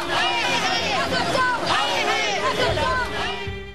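Angry crowd of parents surrounding a school, a dense hubbub of many raised voices shouting and talking over one another, steady and close throughout.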